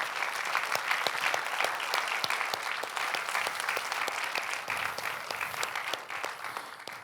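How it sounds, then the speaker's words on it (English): Audience applause at the final of the ASI Best Sommelier of Asia & Pacific 2025 contest, a dense sustained clapping from a large hall crowd that holds steady before tapering slightly at the end. "You can give a hand of applause"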